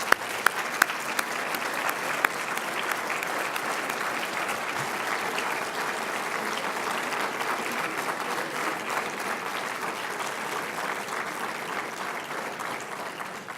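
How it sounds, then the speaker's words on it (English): A crowd at a President's Council reception applauds a group of students brought up front, thick continuous clapping that runs evenly for over ten seconds, with a few sharp individual claps at the start. "give them a round of applause"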